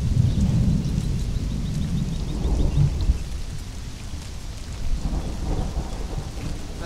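A loud thunderstorm in the video game Conan Exiles, with steady heavy rain and deep rolling thunder rumbles swelling and fading, with no speech.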